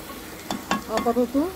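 Chicken sautéing in a pressure cooker on a cooktop for yakhni pulao gives a soft, brief sizzle and stirring sound, partly under a short spoken word.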